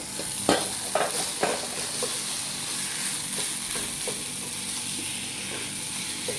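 Potato and pea samosa filling stirred in a pan, a steady soft sizzle with scraping spoon strokes, close and alone with no talk.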